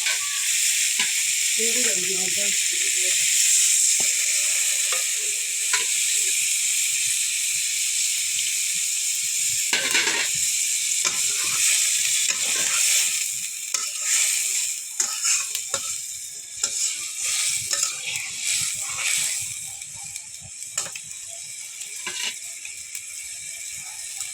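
Liquid hits a pan of frying mola fish with a loud, sustained hiss of sizzling that later breaks into crackling bursts and scraping stirs.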